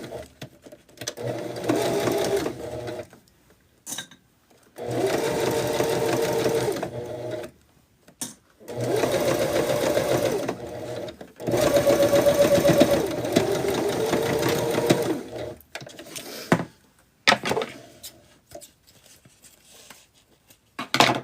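Sewing machine stitching a bag, running in four long bursts of steady mechanical whirring separated by pauses, with a few short clicks and handling sounds between, close and without talk.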